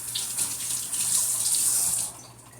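Water pours steadily out of a mead-making container into a sink, a close, hissing splash that lasts about two seconds and then stops abruptly.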